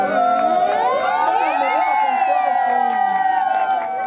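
Women ululate at a wedding, a loud, sustained, wavering trill of several voices layered over crowd cheering that carries steadily throughout.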